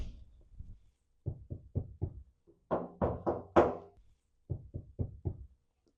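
Several groups of dull, solid knocks on a sound-deadened Chevy/GMC Squarebody Blazer door, three or four thumps at a time with pauses between, muffled and heavy rather than ringing.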